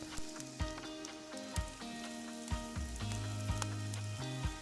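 Butter sizzles alongside fried rice on a Blackstone griddle at a camp cookout, a steady close hiss broken by occasional soft scraping knocks.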